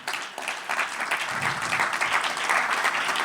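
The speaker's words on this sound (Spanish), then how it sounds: "Dale un aplauso al Señor" A church congregation claps together in praise during a worship service, a dense, sustained round of applause that swells slightly and holds strong to the end, with faint voices mixed underneath.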